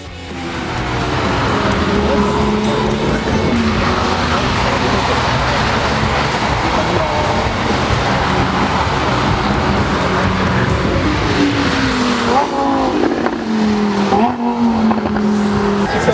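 Tuned cars lapping a race track at a tuning show, their engines roaring and revving continuously at close range, with gear changes and rising pitch sweeps near the end, under faint voices.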